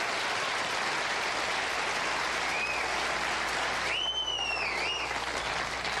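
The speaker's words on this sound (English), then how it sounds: "Friends, yes, you may applaud the great NBC officer" Studio audience applause on a late-night talk show, a steady dense wash of clapping throughout, with a brief whooping or whistling voice rising over it near the end.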